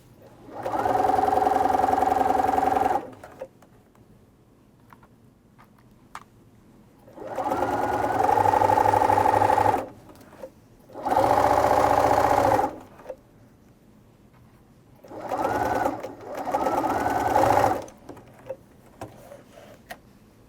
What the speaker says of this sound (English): we're going to take this over to the sewing machine